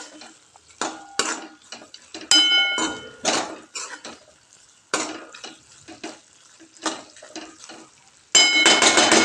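Ridge gourd curry with peanut powder being stirred in a pan, with repeated scraping and clinking of a spoon against the metal pan in irregular bursts, loud and close, with no talking.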